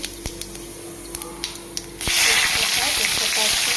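Cumin seeds drop into hot oil in a wok that just fried ash gourd slices, and a sudden loud, hissing sizzle bursts out and holds steady after a few scattered clicks and taps.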